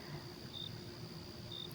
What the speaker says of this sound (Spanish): un tramo solitario donde solo se oyen grillos, el viento y de vez en cuando el motor lejano de algún camión.